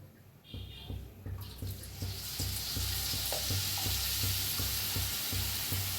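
Food frying in a pan for vada pav, a steady close sizzle that swells after the first second and holds loud, with a faint low rhythmic hum underneath.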